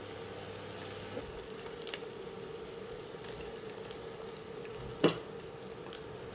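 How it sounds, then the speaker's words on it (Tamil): Drained boiled pasta is stirred into sauce in a pan, a soft steady sizzle with faint stirring scrapes and one sharp clink near the end. "அந்த பாஸ்தாவை சேர்த்து கிளறிடலாம்."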